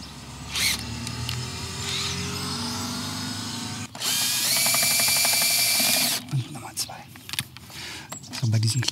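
A cordless power tool whirs in short bursts while loosening the screws on the front cover of a Vespa GTS 300 scooter outdoors, with a longer loud run in the middle and someone talking between bursts.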